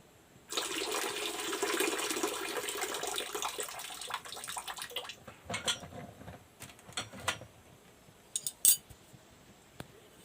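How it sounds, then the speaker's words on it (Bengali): Lentils for a sour mango dal are swished and rinsed in a pot of water. A few seconds of steady sloshing lead into scattered clinks and drips, close by, with no voices. "এই যে আমি ভালো করে আর একবার ধুয়ে নিচ্ছি, ভালো করে 2-3 বার ধুয়ে নিচ্ছি ডালটা"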